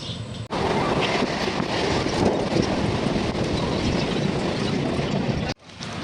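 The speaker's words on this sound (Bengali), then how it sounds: "নদিয়া রানাঘাট লোকাল নদিয়া রানাঘাট ট্রেন ধরেছি" Loud, steady rumble of a Ranaghat local train running toward Kalyani, broad rushing noise with rattling carriages, starting and ending with abrupt cuts.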